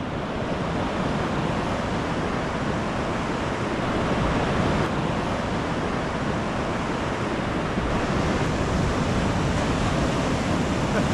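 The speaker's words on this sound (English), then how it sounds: "You can use the waves here" Surf breaking on a beach during land-based fishing, heard as a steady, loud, continuous roar of waves with wind, with no pauses and no voices.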